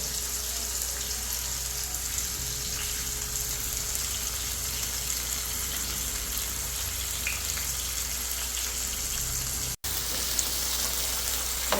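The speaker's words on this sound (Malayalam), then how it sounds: "കോവയ്ക്ക അവിടെ ഫ്രൈ ആയിക്കൊണ്ടിരിക്കുകയാണ് കേട്ടോ നല്ല വെളിച്ചെണ്ണ മണം" Ivy gourd fries in coconut oil with a steady, dense sizzle that stays loud and even throughout, close to the pan, with only a brief dropout near the end.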